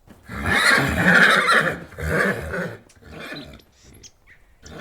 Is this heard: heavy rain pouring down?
no